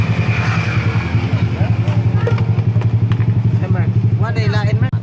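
A Kawasaki Ninja 250SL idles close by through its stock exhaust pipe, giving a loud steady low thumping putter that runs throughout, with people talking over it.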